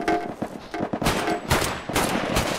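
Gunfire striking a house in the VR video game PunjiVR, a dense run of sharp, loud shots and impacts in bursts with brief gaps, no talking.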